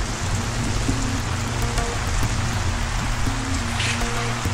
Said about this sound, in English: Oh my God, it's raining heavily.